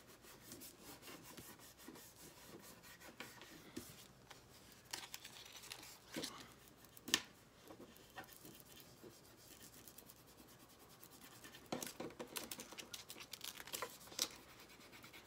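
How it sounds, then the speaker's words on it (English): Back of a pair of scissors dragged like a squeegee across a mug during a craft project, giving faint, steady scraping and rubbing strokes with a few sharper scratches. "I don't have a squeegee, so I like to use the back of my scissors."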